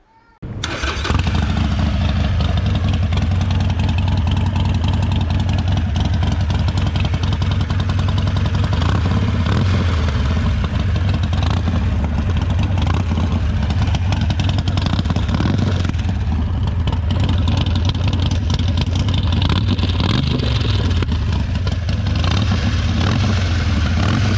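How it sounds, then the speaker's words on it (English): A Harley-Davidson Roadster XL1200CX fitted with a Vance & Hines exhaust and Screamin' Eagle Stage 1 kit starts up and rumbles loud and close with a deep, throbbing idle, its throaty exhaust note swelling with occasional revs. "Harley Davidson Roadster XL1200CX, Vanson Hines exhaust and Screaming Eagle Stage 1 kit from Harley Davidson"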